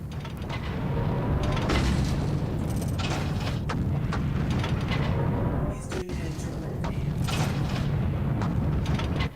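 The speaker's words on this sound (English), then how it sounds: "We're all putting on our own little fireworks show here for the, in celebration of the achievement." A fireworks show in a video game rumbles with dense booms and crackling bursts, loud and continuous, layered over a steady low roar.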